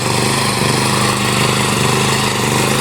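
A loud, steady tractor engine drones continuously at close range, a rough mechanical rumble with no pauses.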